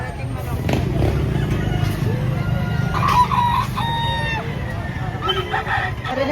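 Roosters crow and chickens cluck at a busy poultry market in Lipa, Batangas, with several crows rising over a steady hubbub of voices and nearby chatter.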